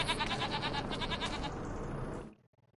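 Goats bleating in a farm video game, a dense run of repeated cries for about two seconds, then they cut off abruptly.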